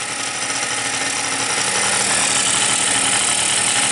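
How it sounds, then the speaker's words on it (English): A 50cc two-stroke scooter engine with a lean condition runs steadily and loudly up close, a dense buzzing drone that roughens slightly partway through. "after running for a while, it kind of bogs down"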